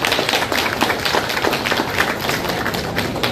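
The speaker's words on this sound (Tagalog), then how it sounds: "Pumalakpak ng malakas." An audience at a Santo Niño exhibit at SM East Ortigas in Pasig claps loudly, a dense steady wash of many hands that holds at the same level throughout.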